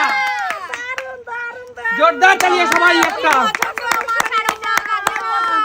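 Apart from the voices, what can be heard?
audience clapping for a Bhai Phonta gift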